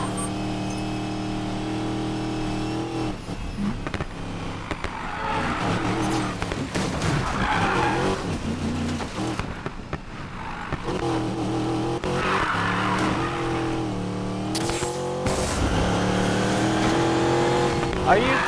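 Cars race in the Need for Speed: Payback video game on Xbox One, engines revving and tires squealing through long skids. The loud, continuous driving runs under intermittent speech.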